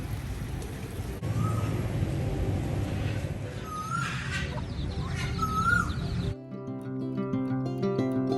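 Pigeons and other birds call around an artificial beach park in the Maldives, with short chirps over steady outdoor ambience before music abruptly takes over near the end.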